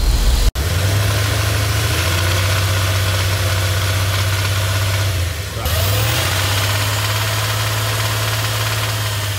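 A 5.9L 360 Magnum V8 engine running while driving, a loud, steady low drone with a faint ticking texture, a brief dip midway, then settling back into its even rumble.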